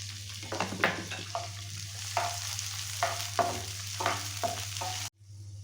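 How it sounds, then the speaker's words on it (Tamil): Charoli, cashews and pistachios fry in ghee, a soft sizzle punctuated by about eight rhythmic scraping stirs of a spoon against the pan, close and fairly quiet, then cutting off abruptly at the end. "சாரா பருப்பு, முந்திரி பருப்பு, பிஸ்தா பருப்பு இந்த மூணையும் ஃப்ரை பண்ணி எடுத்துக்கலாம்."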